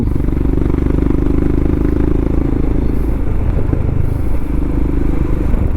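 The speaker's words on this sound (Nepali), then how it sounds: "विनय भाइले त कुदायो है बाइक चाहिँ नि" A motorcycle is ridden along a slippery, muddy road in Mizoram, India, its engine giving a loud, close, continuous rumble with rattling and clatter from the rough surface.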